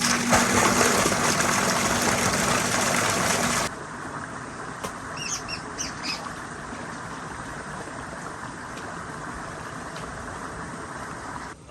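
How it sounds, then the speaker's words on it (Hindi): Water flows through a channel into a paddy field being flooded for rice nursery planting, a steady broadband rush that is louder for the first few seconds, then continues more softly outdoors. "अभी पानी लगा दिया, बहुत जल्द पानी हो जाएगा"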